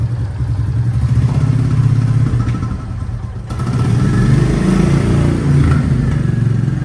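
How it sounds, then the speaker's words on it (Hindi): A BS6 motorcycle engine idles steadily during a workshop demo, a loud, close, continuous mechanical rumble with faint clatter and a slight rise in pitch partway through. "डेमो इंजन चालू करना पड़ेगा सर।"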